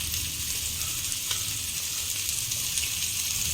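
Mint-seasoned fish frying in a thin layer of oil in a pan, a steady, close hiss of sizzling with faint crackles throughout and no voices.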